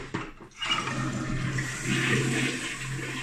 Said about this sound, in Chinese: 就是我们冲水以后它不会像这样子出水